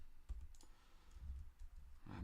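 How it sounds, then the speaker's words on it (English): Quiet typing on a computer keyboard: a few soft, scattered key clicks close by with short pauses between them and no talk. "I'm typing again"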